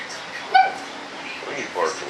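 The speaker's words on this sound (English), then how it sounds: "Oh, what are you barking at?" A dog named Sammy barking in a model-building workshop, one short yip near the start and then faint whimpering yips, with a person talking throughout.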